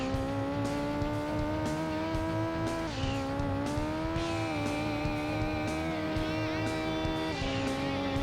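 A Renault Megane 2.0 16-valve race car in Gran Turismo 2 on a rally event, its engine droning loudly at high revs and shifting pitch through gear changes, with occasional tire squeal.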